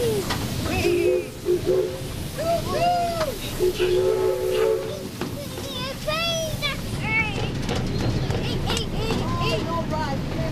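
Steam train running at a pumpkin farm, with rhythmic chuffing and rail rumble under repeated short whistle toots, while people talk and exclaim nearby throughout.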